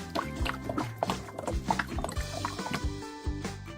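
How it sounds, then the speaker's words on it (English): Liquid chocolate pouring in a bakery video game, a run of glugging, dripping liquid pulses at an uneven rhythm, fairly close and clear, with no voices over them. "That chocolate is very liquidy soundy."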